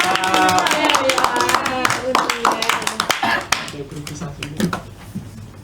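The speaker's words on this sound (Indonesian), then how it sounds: "Oke, beri tepuk tangan." A classroom group applauds, a burst of mixed clapping that starts full and thins out into scattered claps, with voices talking over it.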